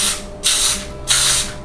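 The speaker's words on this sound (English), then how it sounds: "use some vegetable spray to spray my liners" Vegetable cooking spray misted from a can into muffin liners: two short close hissing bursts with a brief pause between.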